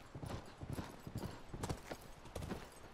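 Horse hooves clip-clop at a steady walking rhythm in The Last of Us video game, a series of close, fairly soft thuds that run evenly through the moment with no talk.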